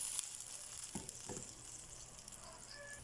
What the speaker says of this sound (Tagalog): Lagay natin ang sabaw ng buko.